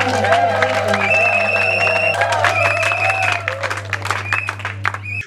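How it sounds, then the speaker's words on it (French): Midwives applaud and cheer loudly at the inauguration of their order's urban office, a dense crowd of clapping with whoops and shouts over a steady low hum, fading near the end. "nous profitons de cette occasion pour demander à toutes les sages-femmes présentes ici de bien vouloir applaudir vivement l'honorable Marie-Josée Nyong'o-Swami"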